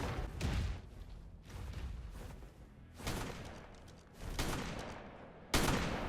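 Shotgun blasts aimed at a Giga in Ark PvP, a series of heavy, wide booming bursts spaced about a second or two apart, moderately distant with a rumbling tail between shots.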